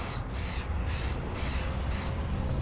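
An aerosol spray can hisses in repeated bursts, close and steady, as a heavy coat is sprayed onto tent fabric during tent maintenance.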